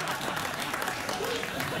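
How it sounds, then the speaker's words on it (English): Studio audience applause on a late-night talk show: sustained, dense clapping from a large crowd, moderately loud and steady throughout, with a faint voice mixed in beneath. "Why are you applauding that?"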